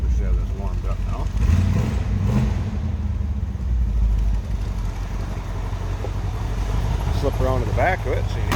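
A 1965 Ford Mustang fastback with a 289 four-barrel V8, Edelbrock carburetor and intake, idles with a steady, deep low rumble heard from behind the car, and light clatter and faint talk rise above it.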